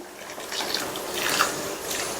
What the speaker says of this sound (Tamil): அடுத்து இதில் நான் சூடான தண்ணி சேர்க்குறேன்.